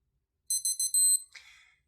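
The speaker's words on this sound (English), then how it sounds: "I'll let you hear the beeps again." A Casio RFT-100 digital watch countdown timer gives four short high-pitched electronic beeps in quick succession, then a longer tone and a brief chirp, close and clear against silence.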